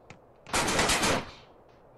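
Rapid automatic gunfire in a GTA San Andreas dojo fight, a dense loud burst of about three quarters of a second that ends abruptly, with quieter single shots before and after.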